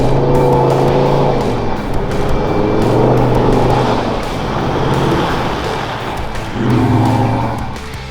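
A four-wheel-drive vehicle driving through the sandy Simpson Desert, its engine droning loud and steady close by with rises and falls in revs and constant rumble throughout.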